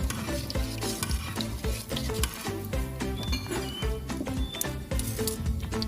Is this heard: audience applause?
no